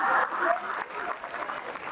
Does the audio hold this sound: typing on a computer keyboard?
no